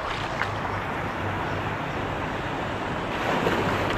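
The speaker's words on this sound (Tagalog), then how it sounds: "hampas ng alon," Sea waves surge and crash continuously, a broad roaring wash with wind buffeting the microphone and no voices.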